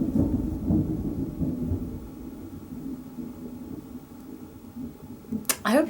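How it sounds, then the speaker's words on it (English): A big, rolling clap of thunder before a storm, loud and close, rumbling low for several seconds then fading, with a sharp crackling burst near the end; no voice is heard. "that was a really big clap of thunder"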